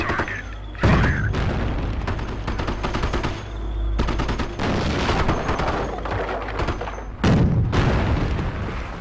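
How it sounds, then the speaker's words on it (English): In the Company of Heroes video game, tank cannons fire several heavy booms amid rattling machine-gun bursts and battle noise during a tank combat exercise. "Cannon on target. Fire."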